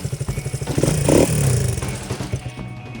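A 1978 Honda CB125S single-cylinder engine runs close by with a rapid, even putter, rises briefly into a short rev and then drops back to a choppy idle that fades toward the end.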